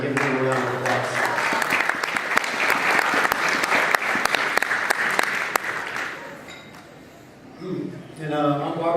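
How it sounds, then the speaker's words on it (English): Banquet audience at a winter sports awards dinner applauds a coach, dense steady clapping for about six seconds before it fades and a voice resumes speaking. "I want to thank him again by giving him a round of applause."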